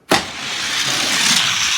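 Drag racing cars launch down the strip at an even-bracket race, with a sudden loud burst followed by a sustained, roaring engine rush.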